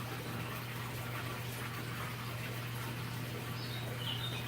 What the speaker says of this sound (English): You can hear in the background there my aquaponics system.